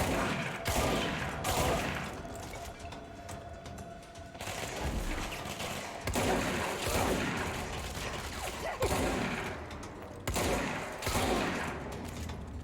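Rapid bursts of gunfire in the video game Control, several sharp volleys separated by brief pauses, loud and close with mechanical clatter between shots.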